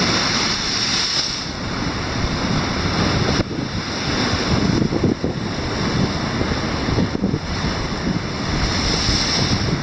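Caspian Sea waves splash and spout between jagged rocks on a rocky shore, a loud, continuous wash of surf with surges every few seconds, and strong wind buffets the microphone.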